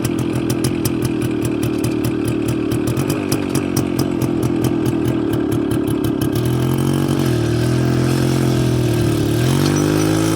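A Girnar 4 mini tractor with a Suzuki engine runs loudly and close, a rapid rhythmic engine throb that smooths into a steadier idle partway through, with no talk over it.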